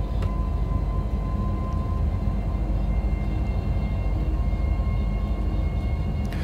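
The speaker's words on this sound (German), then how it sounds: "Die Sounds wurden aufgenommen von einer echten Lok, sind also nicht synthesized." A BR 146 electric locomotive in Train Sim World 5, with sound recorded from a real engine, runs steadily on the Frankfurt–Fulda line at speed, giving a continuous low rumble with a faint high whine and no talk.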